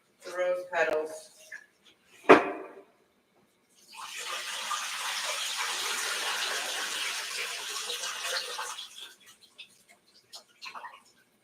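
Water being drained after rinsing rose petals, a steady broadband rush lasting several seconds between brief bursts of nearby talk.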